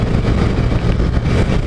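A small motorcycle engine runs loud and close as the throttle cable is pulled, giving a dense, continuous engine drone with slight rhythmic pulsing over the short stretch.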